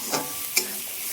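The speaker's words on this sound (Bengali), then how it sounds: "দিয়েও ভালো করে মশলাটা মিশিয়ে নেব।" Spice masala frying in oil in a pan, stirred for a Bengali tarka with eggs: a soft steady sizzle with two brief scraping strokes of the spoon, close and quiet.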